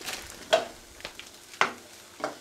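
Pre-chopped salad dropped into a hot frying pan for chicken wraps, a few sharp sizzling bursts spaced about half a second apart, close and fairly loud over a low steady fry.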